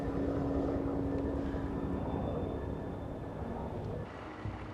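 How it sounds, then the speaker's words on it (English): Distant Huey helicopter droning steadily overhead in a remote snowy Turkish blizzard setting, a faint continuous low rumble with a steady tone, alone without talk, easing slightly near the end. "A helicopter! Dad! Sounds like a Huey."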